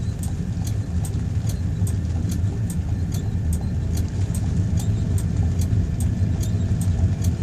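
A Citroën 2CV rolling downhill in a failed bump-start attempt, the engine never catching: a continuous low rumble of tyres and drivetrain with a regular light ticking repeating throughout, steady and close.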